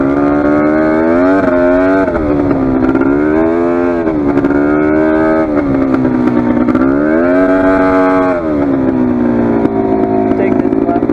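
Polaris 400 ATV engine revving steadily during an off-road ride, a loud continuous drone whose pitch climbs and falls with throttle changes throughout.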